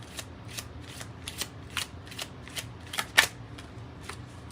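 Tarot cards shuffled during a reading: a steady run of brisk, crisp riffles and flicks repeating roughly every half second, close and fairly quiet, one sharper slap near the end, with no talking.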